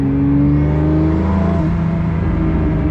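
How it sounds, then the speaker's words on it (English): The deep drone of a Pagani Utopia's V12 engine downshifting at low revs in a manual gearbox, with steady low harmonics that drop slightly in pitch partway through, close and continuous. "Also in downshifting, low RPM on the V12."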